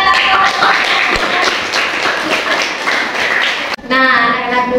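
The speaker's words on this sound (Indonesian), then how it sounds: "Tepuk tangan anak-anakku." Schoolchildren in a classroom clap their hands in a brisk, close burst of applause that stops abruptly near the end, with a teacher's voice heard after.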